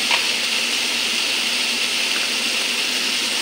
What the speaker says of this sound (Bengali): আমি অল্প করে জল দিয়ে দেব।